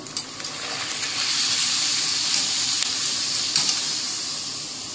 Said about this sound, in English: So now we'll start frying the papad.